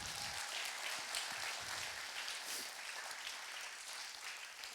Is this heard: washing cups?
no